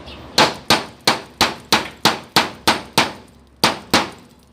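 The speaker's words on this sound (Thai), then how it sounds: "ให้เราหาเหล็กแหลมนะครับ ตอก อัดเข้าไปเลยครับ" Hammer blows driving a pointed steel spike into a wood panel: about eleven sharp metallic clangs at a steady, even rhythm, loud and close, each ringing briefly before the next strike, with a short pause near the end.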